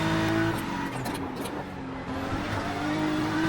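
A race car engine drones steadily through a lap in the iRacing sim racing game, with a sustained loud, even tone and slight pitch shifts, and no talking.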